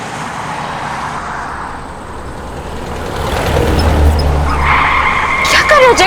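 A car driven recklessly on a road, tires skidding and squealing as the engine surges louder toward the end, close and loud, with talk over it.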